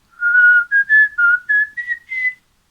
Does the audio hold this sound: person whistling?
yes